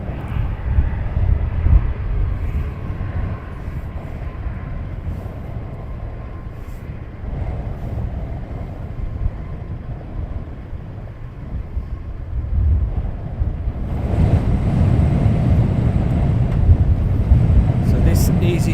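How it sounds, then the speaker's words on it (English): An EasyJet passenger jet takes off from Luton Airport, a loud continuous low engine roar with wind buffeting the microphone that swells stronger toward the end, and a voice talks over it. "So this EasyJet is now off to Amsterdam."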